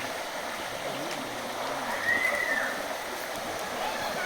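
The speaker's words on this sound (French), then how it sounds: "Une cascade." A steady rush of falling water fills the air, constant and moderately loud, with a brief faint whistle partway through.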